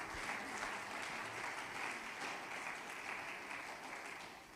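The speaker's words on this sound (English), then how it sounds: "we deserve to give ourselves another round of applause" A conference breakout session audience on traditional and complementary medicine applauds in a hall, a steady wash of clapping heard at a distance and rather faint, fading slightly at the end.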